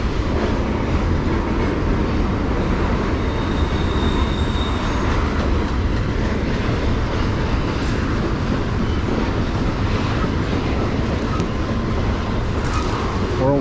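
A train rolls past near the Horseshoe Curve with a steady, loud rumble of wheels on rails and faint squealing, continuous throughout with no talk.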